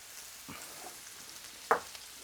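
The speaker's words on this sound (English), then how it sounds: "Starting to sizzle." Onions and peppers sizzle quietly in a hot pan, a soft steady crackle with a couple of sharper clinks of utensils.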